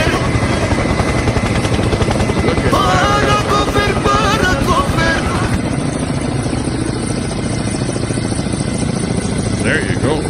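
A helicopter's rotor beats loud and steady at close range over the Rocky Mountains, a continuous pulsing thrum with engine whine that persists for the whole stretch. Voices are faint or absent beneath it.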